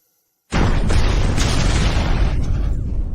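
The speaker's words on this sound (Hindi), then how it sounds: "ये आतिशबाजी कितनी खूबसूरत है।" A drama sound effect of explosions likened to fireworks bursts in after a short silence as a loud, sustained roaring blast, with a few surges and crackles trailing through it and no talk.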